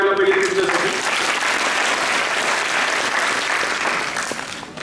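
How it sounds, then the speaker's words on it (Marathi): An audience at a youth festival prize ceremony claps in a sustained, dense burst of applause that holds steady and then begins to taper near the end. "जोरदार टाळ्या व्हायला पाहिजे त्यांच्यासाठी"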